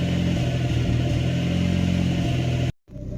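A boosted Honda Accord engine idles steadily while warming up, a close, even drone with a low throbbing rumble that holds for almost three seconds, then cuts off abruptly into near silence.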